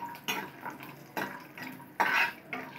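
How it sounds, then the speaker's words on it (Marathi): Cashews and almonds sautéing in melted ghee in a pan for makhana kheer, heard as a few short bursts of stirring and scraping against the pan with a soft background hiss, no voices. "इकडे काजू बदाम आपले परतून होत आहे"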